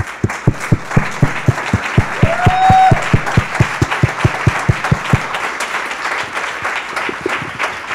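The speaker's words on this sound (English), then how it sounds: "Let's have a round of applause for our panel." Audience at a plenary panel on open education claps for the panel, rapid sharp distinct claps from a small group for about five seconds with a brief tonal whistle-like sound mid-way, then quiet room noise.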